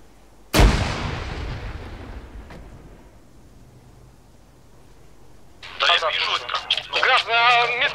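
A grenade blast in ArmA 3 from a hillside position, one sharp loud crack that rolls off into a long fading rumble, followed by a voice over a radio.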